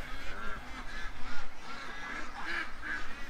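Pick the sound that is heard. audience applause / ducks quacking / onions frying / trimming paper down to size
ducks quacking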